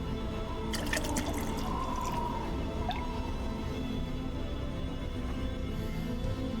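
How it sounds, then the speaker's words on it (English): A drink is poured in Arelith, a Neverwinter Nights game, giving a few liquid drips and a gurgling trickle over a steady low background hum, with no talking. "let me pour this drink"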